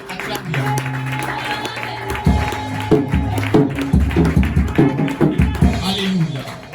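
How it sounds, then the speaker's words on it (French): A church congregation applauding the Lord, with a burst of clapping and cheering from the crowd under a speaking voice and a sustained musical tone, rising in intensity toward the end. "Acclame le Seigneur si tu es d'accord avec moi."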